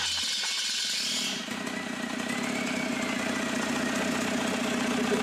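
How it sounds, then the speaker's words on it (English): A TDI diesel engine swapped into a Willys wagon idles steadily with a continuous low rumble and light rattle, close by and alone, without talk. "our TDI motor is officially running"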